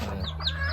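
Chickens kept for a small chicken business cluck softly in a brief, quiet moment, a few faint chirps over a low steady hum.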